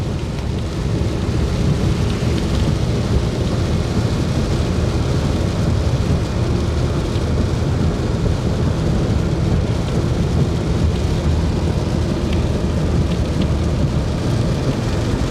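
Heavy rain pours steadily on Khao Kho mountain during a road trip, a dense unbroken roar with low thunder rumbling underneath throughout.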